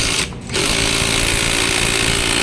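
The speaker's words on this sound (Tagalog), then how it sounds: "impakin mo na para mabilis na matanggal lang yung magneto niya guys" An impact wrench removes the magneto from an RS150 motorcycle during an overhaul, a loud, close, rapid hammering burst with a brief pause early on, then sustained rattling until it cuts off.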